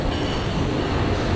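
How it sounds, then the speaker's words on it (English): A tram in Westminster rolls along its rails with a steady, loud rumble and rattle from inside the car, continuous and without talk. "So we took the tram."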